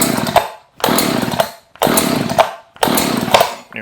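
An Echo power equipment engine is pulled by its starter cord four times in a steady rhythm, each pull a loud, close rasping whir followed by a short silence, with no talk.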